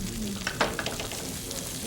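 Chopped leek sizzles with bacon in a frying pan on a TV cooking segment, a steady close crackle with a few stirring scrapes and no talk over it.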